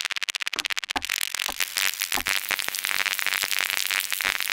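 Electricity effect synthesized in the Serum soft synth, an LFO sweeping a bandpass filter: a rapid train of sharp buzzing pulses giving way to a harsh, continuous crackling hiss, loud and alone.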